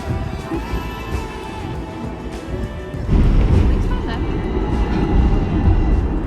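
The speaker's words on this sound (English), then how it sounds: "what I love about this city is the tram" A Hong Kong tram rumbles past on its street rails, growing louder and heavier midway as it draws near, with a low steady roar and clatter; people talk nearby.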